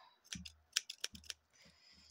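Scissors cutting a small piece of colored paper for a scrapbooking pouch or embellishment: a few quick, crisp snips close up in a quiet room, alone without talk.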